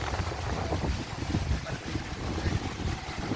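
Night sea waves on Sai Ri beach near the Sadet Tia shrine wash in as a dense, continuous roar mixed with gusting wind buffeting the microphone, with no voices.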